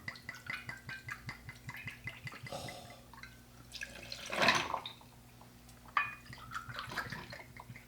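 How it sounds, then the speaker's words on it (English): Gin pours and splashes into a glass in short bursts, with a fuller gurgling pour in the middle, close and quiet. "Just sounds good when you're actually pouring it like that"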